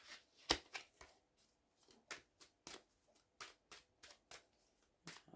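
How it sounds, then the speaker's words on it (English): Tarot cards being shuffled by hand, a quiet series of quick papery riffles and slaps in an irregular rhythm, close and alone with no talking. "for some reason I want to shuffle it a bit more."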